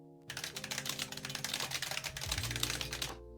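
Fast typing on a 1986 IBM Model M buckling spring keyboard, a dense run of sharp clacky keystrokes, close and steady for about three seconds, with a low hum underneath and no voices.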